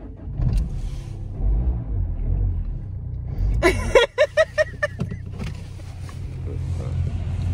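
Low engine rumble of a large, long car idling and revving during a test drive, with a brief clatter of mechanical clicks in the middle and some voices.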